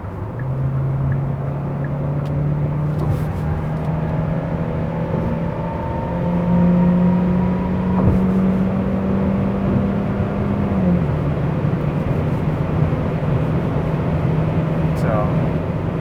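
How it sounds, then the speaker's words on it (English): A 2020 Hyundai Sonata hybrid drives at night, its cabin hum low and steady with the electric motor's whine rising and falling as speed changes, while someone talks over it. "I think this car is quieter compared to the regular Sonata"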